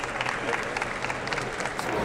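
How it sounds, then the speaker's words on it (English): A large crowd at the Westminster Kennel Club Dog Show claps and cheers loudly and continuously in a big arena, with faint voices mixed in. "So there's crowd cheering"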